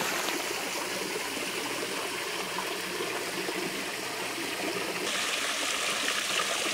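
A creek pours over a small waterfall onto a gravel bar, giving a continuous, close, full rush of water with no voices.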